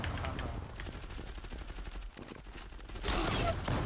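Automatic gunfire from a clan battle in the online shooter Zula chatters in steady rapid bursts, medium distance and fairly faint, with muffled voices beneath and a louder volley near the end.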